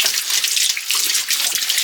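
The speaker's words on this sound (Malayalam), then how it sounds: "മെയിനായിട്ട് വെള്ളം നിറച്ചാൽ മതി" Water pours from a pipe into a washing machine being filled for cleaning, a close, steady hissing gush that runs without a break for the whole short stretch.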